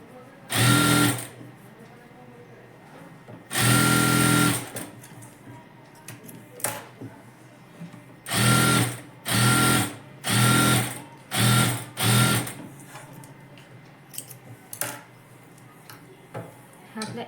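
A tailor's sewing machine stitches a blouse in a string of short loud bursts, some longer runs and several quick back-to-back ones, separated by pauses and quiet handling sounds.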